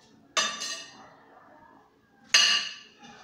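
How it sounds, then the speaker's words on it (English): Soup being stirred in a pot, heard as two sharp metallic clinks and scrapes of a utensil against the pot about two seconds apart, close and quiet with no talk. "I'm just going to give this a stir now, guys."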